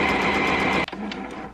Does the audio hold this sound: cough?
no